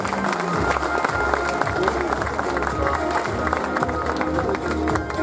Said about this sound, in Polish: Państwo proszę o gromkie brawa.